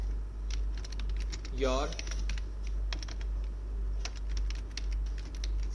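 Someone types on a computer keyboard while writing HTML code: a steady run of crisp, close key clicks over a low hum, with a brief spoken word partway through.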